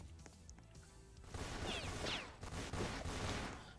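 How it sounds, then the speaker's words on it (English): Rapid machine gun fire in the Roblox Fortnite video game, dense bursts of shots, fairly faint and muffled in the mix. "Machine gun?"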